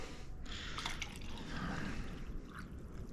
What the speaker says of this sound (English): I'm gonna pour up my Arizona Mucho Mango